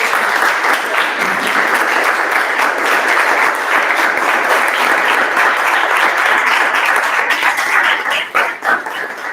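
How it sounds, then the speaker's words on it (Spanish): A church congregation applauds in sustained, dense clapping that fills the room at steady volume, tapering slightly near the end. "Creo que le podemos dar un aplauso al Señor."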